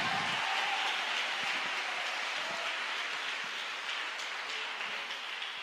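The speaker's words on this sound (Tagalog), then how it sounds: "Buhay na palakpak para sa Diyos." Sustained congregational applause at a church worship service, a dense, steady roar of many hands clapping for God, continuous and fairly loud with no break.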